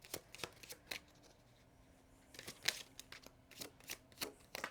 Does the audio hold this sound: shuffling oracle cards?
yes